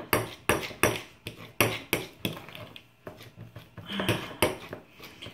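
Homemade toothpaste ingredients stirred in a bowl with a utensil, giving a quick run of regular scraping clinks against the bowl that slow and soften midway, then return as the mixing continues, close and clear with no talking.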